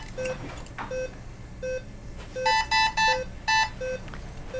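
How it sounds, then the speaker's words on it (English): An ECMO console alarm in a clinical setting during an oxygenator failure, sounding a steady repeating single tone and then a louder cluster of rapid higher beeps, close and clear with no talk. "Silence that alarm for us."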